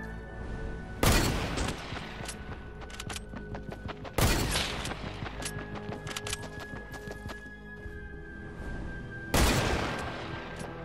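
Gunfire in Fortnite: three sharp, loud shots spaced several seconds apart, each with a short echoing tail, over a quieter bed of game sounds and faint ticking.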